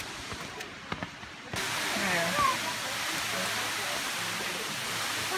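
Waterfall at Silver Creek Falls, Oregon, a loud, steady broadband rush that starts abruptly after a quieter opening with a few footsteps and soft voices, continuing under brief talk.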